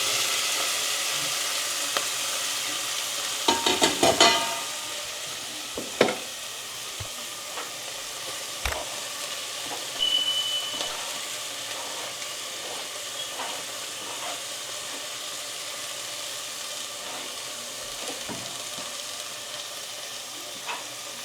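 Cumin and fenugreek seeds sizzle in hot oil for a Gujarati paneer bhurji, a continuous crackling hiss with a burst of louder spattering early on and scattered pops and ladle clinks as it settles.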